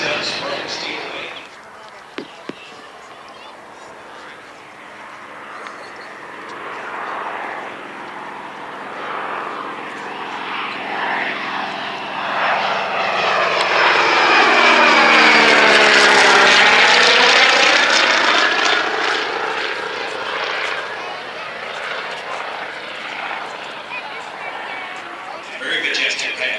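A Cessna 195 with sprung steel wings and a radial propeller engine makes a fly-by pass, its drone swelling from distant to loud and close around the middle, with a falling pitch sweep as it passes and fades away.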